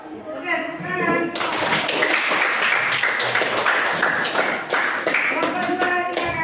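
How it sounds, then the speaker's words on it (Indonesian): A classroom of students breaks into applause, many hands clapping in a brisk, full burst that starts after a short spoken line and carries on steadily, with a voice briefly audible over it. "Oke, tepuk tangan."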